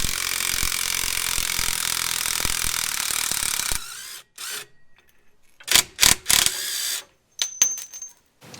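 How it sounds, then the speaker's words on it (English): Spanners work a shock absorber nut loose on a Nissan GU Patrol: a steady ratcheting, clicking rattle for several seconds, then a few separate sharp metallic clinks and taps, close and fairly loud. "attach a open-ended spanner onto it to hold it steady while you've got your other spanner over to undo it"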